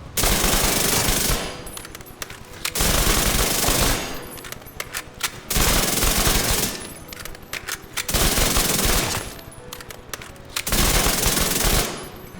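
Rapid automatic bursts from the Chatterbox SMG in Division 2, loud sustained strings of gunfire lasting a second or more each, broken by short quieter gaps, repeating about five times with no talking.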